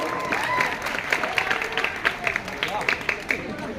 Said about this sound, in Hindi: तालियां बजा दो ताकि मेरा हौसला और